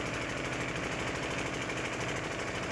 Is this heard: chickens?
no